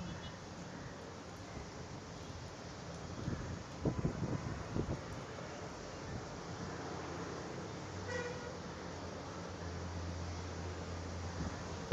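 Strong wind buffets an outdoor microphone during Cyclone Nivar, a steady rough roar that runs throughout with gustier bursts, while a voice and passing traffic sound faintly underneath.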